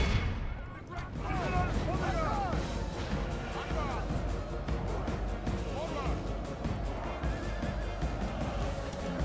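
Musket volleys crackle through a video game battle at The Merchant Failure of Venice, with dense overlapping shots, a horse whinnying and crashing impacts, under steady speech.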